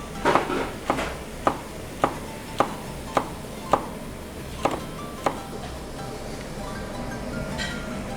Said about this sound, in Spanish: Le van a cortar los nopalitos para los tlacoyos.